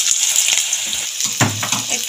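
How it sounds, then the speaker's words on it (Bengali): Potatoes hit hot oil in a pan during a Bengali mixed vegetable recipe, giving a close bright sizzle with a louder burst of frying noise partway through and some light stirring clatter. "প্রথমে আমি আলুটা দিয়ে দিলাম তেলের মধ্যে"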